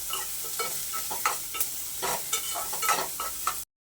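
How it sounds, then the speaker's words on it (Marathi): Onions fry in a pan while being stirred, a close, soft crackling sizzle with scraping strokes of a spoon running throughout, with no talk. "आपल्याला असं कांदा छान भाजून घ्यायचा आहे"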